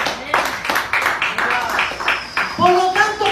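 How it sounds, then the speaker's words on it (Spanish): Congregation at a Spanish-language church service clapping in praise to the Lord, a rhythmic, moderately loud run of hand claps mixed with voices and talk. "Dan un aplauso al Señor."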